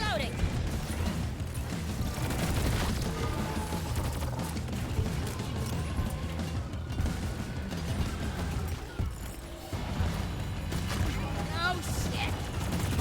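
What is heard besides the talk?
gunfire in a video game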